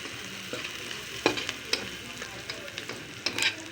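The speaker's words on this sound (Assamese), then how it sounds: "এইখিনি ৰঙচুৱা কৰি ভাজি ল'ম" Steady sizzling of onions frying in a pan, with occasional scrapes and stirring clicks over the continuous hiss.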